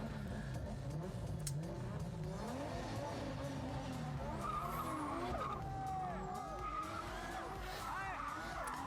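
A race car drifting at a racing event, tires skidding and squealing with the engine revving and sliding in pitch, sustained and fairly distant, with faint voices underneath.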